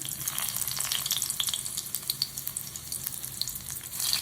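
Dried red chilies sizzle and crackle steadily in hot oil, with frequent small pops and spits throughout, close and moderately loud.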